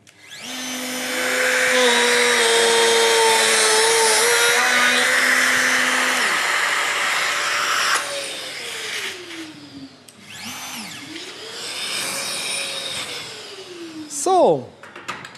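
Festool drill boring 32 mm hinge cup holes in a board using the 32 mm system: a loud, sustained motor whine with changing pitch during the cut, then it spins down, followed by shorter revving bursts.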